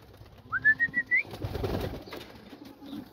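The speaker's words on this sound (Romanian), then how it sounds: "E un porumbel foarte mare, foarte masiv." A very large, heavy pigeon gives a short series of close, pulsed calls, followed by soft rustling and handling noise.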